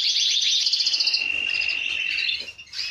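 Small birds in an aviary chirp in rapid, bright trills close by, with overlapping high tweets running almost continuously and a short pause before a final burst.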